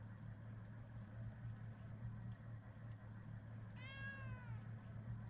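A cat gives a single clear, close meow aboard a ferry, cutting through a steady low engine drone that runs throughout.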